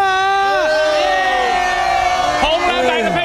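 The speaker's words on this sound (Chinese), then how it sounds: "大家自己给一个掌声好不" A large, packed crowd at the Liuhe night market cheers loudly, with overlapping whoops and shouted voices rising and falling in quick bursts close by.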